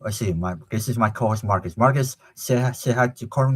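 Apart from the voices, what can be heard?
No everyday noise stands out behind the speech.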